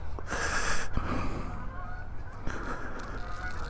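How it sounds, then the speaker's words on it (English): Canada geese honk in a brief burst of harsh, nasal calls at Westport Lake, fairly close, with a rustle of outdoor background noise between the calls. "Yep, here come the Canada geese."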